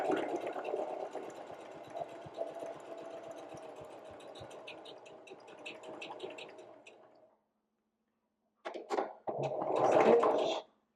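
A sewing machine stitches a zigzag back and forth along the edge of a homemade fabric wallet, running steadily for about seven seconds, then stopping before a second short, louder burst of stitching.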